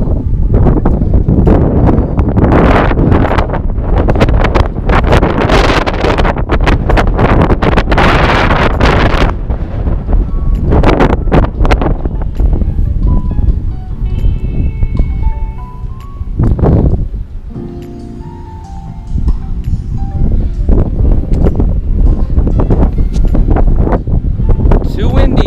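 Heavy wind buffeting a microphone outdoors in a Las Vegas, Nevada residential neighborhood, loud roaring gusts that ease briefly midway before building again, with no clear speech.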